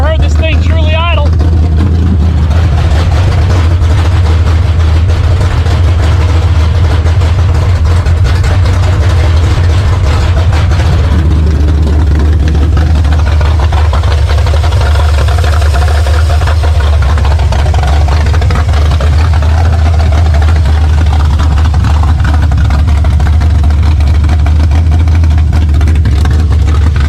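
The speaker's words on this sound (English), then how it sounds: "This 400 that just 4 months ago was stuck, it's idling." A Pontiac 400 V8, freed after being stuck, idles steadily in the Project Scimp car, a constant low rumble that runs the whole time with talk over it.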